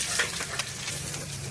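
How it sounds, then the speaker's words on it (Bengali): Eggs coated with salt, chili and turmeric fry in oil in a frying pan, giving a close, continuous crackling sizzle with a few brighter pops and no talking. "ডিমগুলোকে একটু লবণ মরিচ হলুদ মেখে ভেজে নেব"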